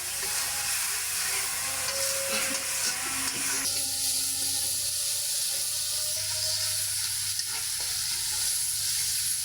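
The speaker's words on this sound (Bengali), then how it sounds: "এখন এই যে কষাচ্ছি কিছুক্ষণ কষিয়ে নেব এতেই যেন পেঁয়াজটা হয়ে যায়" Onions being stir-fried in a pan for a chicken curry, a steady loud sizzle and hiss with scraping stirring strokes throughout, no talk.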